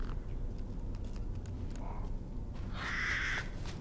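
Crows caw in Resident Evil Village over a low ambient rumble, with one loud harsh caw near the end after fainter calls earlier.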